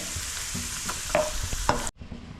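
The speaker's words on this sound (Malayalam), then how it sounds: "കശുവണ്ടി കോരി മാറ്റിയതിന് ശേഷം അതിലേക്ക് മുന്തിരിങ്ങ ഇട്ട് കൊടുക്കാം" Raisins fry in oil left from cashews for beef biryani, a steady close sizzle with a few scraping stirs that cuts off abruptly near the end, leaving only quiet room noise.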